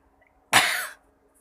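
A single short cough, close and fairly loud, from someone nursing a cough with a warm patch applied, followed by quiet.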